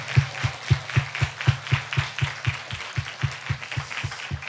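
A church congregation at a Christmas celebration claps in a steady, unison rhythm, each sharp clap evenly spaced and fairly close.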